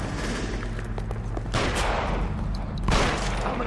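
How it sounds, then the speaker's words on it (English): Gunshots in the crime game L.A. Noire: a rapid volley of close, loud shots with sharp individual cracks, strongest around the middle and end, and no talk. "Son of a bitch shot me."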